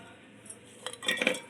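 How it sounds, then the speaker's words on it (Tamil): A quiet pause, then a few quick clinks and a short clatter of small chopped coconut pieces dropping into a metal mixer jar. "ஒரு தேங்காவை நான் பொடியாக நறுக்கி வச்சுருக்கேன். இப்போது மிக்சர் ஜாரில் போட்டுடலாம்."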